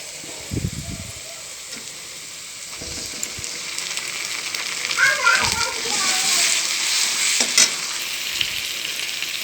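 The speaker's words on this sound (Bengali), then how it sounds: "এখন এর মধ্যে আদা রসুন পেঁয়াজ লঙ্কা যে পেস্ট করে রেখেছিলাম সেটা দিয়ে দেব" Onions frying in oil with a ginger, garlic, onion and chili paste added for a Bengali mackerel fish dish, giving a steady close sizzle, a few clattering stirs and knocks, with children's voices faint in the background.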